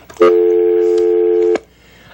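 A telephone line on a radio call-in show gives one loud, steady tone that holds for just over a second, then cuts off abruptly into quiet.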